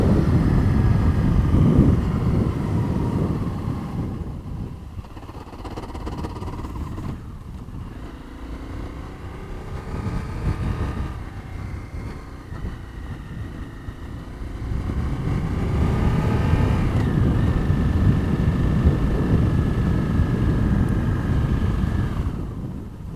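A dirt bike engine runs steadily while being ridden, with the note dipping and rising as the rider works the throttle and shifts. It is loud and close throughout, with some wind buffeting and a stronger surge near the end.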